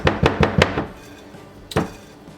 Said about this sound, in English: now what I'm going to do is just stir my dry ingredients